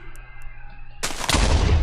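Creeper chicken from a modded Minecraft game exploding: a sudden loud blast at about one second, with a second heavier burst just after, then a low rumble that holds to the end.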